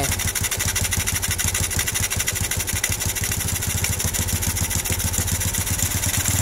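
Honda Revo motorcycle engine running steadily up close during carburetor adjustment, a loud continuous buzzing thrum with rapid even pulses and no speech.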